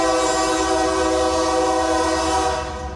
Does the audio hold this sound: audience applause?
no